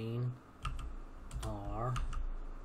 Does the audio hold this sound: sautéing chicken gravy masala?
no